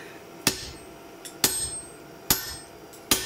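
Blacksmith's hammer striking hand-forged steel in a forge workshop in Yuwaku, Kanazawa, Ishikawa: four loud, sharp metallic blows at a slow, slightly uneven pace, each ringing briefly before fading, with no talk.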